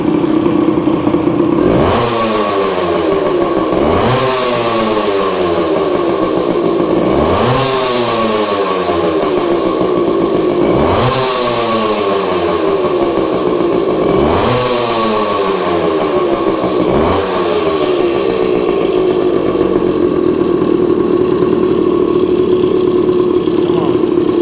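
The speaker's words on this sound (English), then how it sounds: "Okay, it's running pretty good right now." A Suzuki TC-90 motorcycle engine runs steadily after being kicked over, its loud buzzing exhaust note swelling in repeated revs about every four seconds, continuous and close throughout.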